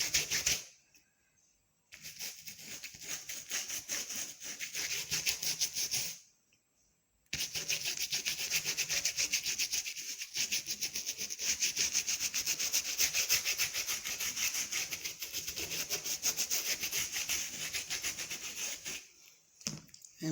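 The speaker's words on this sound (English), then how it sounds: "Use your hand to rub it together, or you can use the same brush to do it" Brush rubbing liquid stiffener into leather for blocking a fascinator, a steady dry scrubbing hiss that runs continuously and close, with two brief pauses early on and no talking.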